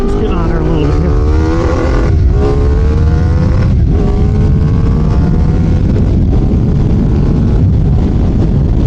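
A Ducati Diavel motorcycle pulls away from sand and accelerates hard, engine roaring loud and close with rising revs and gear changes through first, under heavy wind rush.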